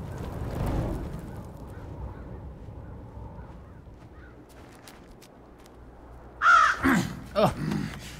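Crows cawing in the For Honor video game, a cluster of several loud harsh calls near the end after a long stretch of low ambient rumble and faint distant noise.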